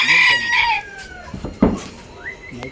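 A rooster crows loudly up close, followed by scattered clucks and chatter from other chickens at a poultry yard, with faint voices in the background.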